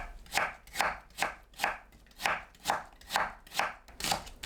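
A knife strikes a cutting board while julienning radish for a clear Korean radish and egg soup: nine or so steady, crisp chops about half a second apart, close and alone.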